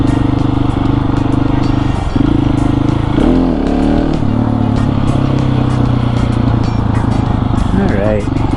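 Supermoto 701 motorcycle riding on a side street, its engine droning steadily and loudly with pitch shifts as it revs up and down, a voice talking over it.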